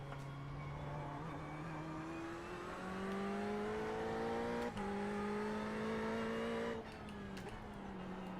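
A GT3 race car in the iRacing simulator drones with a steady engine note that climbs, drops sharply at a downshift and climbs again, with a second downshift near the end, continuous and fairly quiet without speech.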